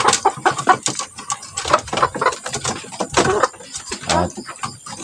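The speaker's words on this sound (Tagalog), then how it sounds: "ito na ating mga manok" Chickens clucking in a busy cluster, short overlapping calls and scratchy bursts close by, with occasional louder squawks.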